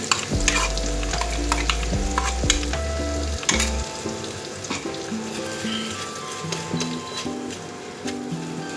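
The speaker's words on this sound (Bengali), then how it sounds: "এবার ভালো করে এই মশলাটা কিন্তু কষাতে হবে। হাই ফ্লেমেই কষাবে মশলাটা।" Spice paste frying in hot oil with small cardamom over high flame for a Bengali katla fish dish, loud continuous sizzle with spatula scrapes and a few clacks against the pan, close up, no voices.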